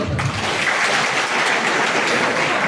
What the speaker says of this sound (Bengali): তাহলে ওনাদের জন্য আপনারা একটু জোরে করে তালি দেন